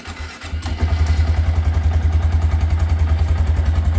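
A Honda Grom motorcycle with a Yoshimura exhaust cold-starts, the starter catching within the first second before the engine settles into a loud, steady, throbbing idle with an even pulsing beat.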